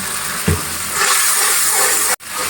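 Turmeric, chili powder and salt masala sautéing in a pan gives a steady, close hiss and sizzle that runs throughout, with a brief low thump near the start and a momentary dropout near the end.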